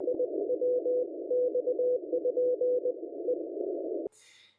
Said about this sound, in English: CW is Morse code, so beep, beep, beep, beep, beep.